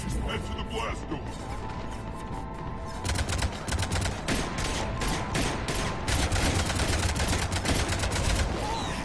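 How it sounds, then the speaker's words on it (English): Rapid bursts of cannon fire in Mass Effect 3 crackle and boom continuously amid dense, loud battle noise, with a voice talking underneath. "Cannons engaged."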